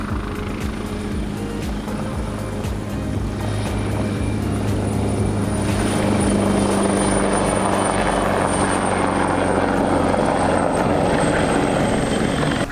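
A search and rescue helicopter flies past a sailing boat, its steady rotor thrum loud and continuous, swelling slightly as it nears, with wind and boat noise underneath.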